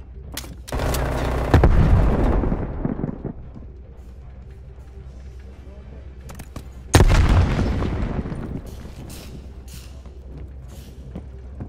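Two loud frag grenade blasts from Call of Duty: Black Ops Cold War, each a sharp boom that rumbles and fades over a couple of seconds, with quiet gaps and faint crackles between them.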